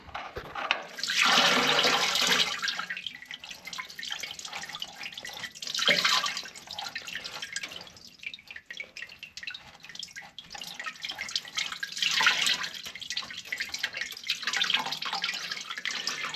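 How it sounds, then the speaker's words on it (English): Fluid drains out of a Volkswagen Bug's frozen, cracked transmission, running and dripping in a steady watery trickle that swells into louder gushing bursts now and then, close up with no one talking. "Let's do one more drain of the fluids here."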